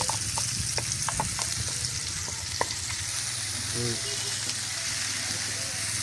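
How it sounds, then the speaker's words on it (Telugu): Masala paste for stuffed brinjal frying in hot oil, a steady soft sizzle with occasional stirring scrapes and light clinks, with a voice briefly heard near the middle. "కాస్త పచ్చిదనం పోయే వరకు దీన్ని మనము ఇట్లా ఈ విధంగా ఫ్రై చేసుకోవాలి"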